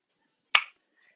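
A single sharp hand clap during a cardio workout, one brief crisp snap in otherwise near silence.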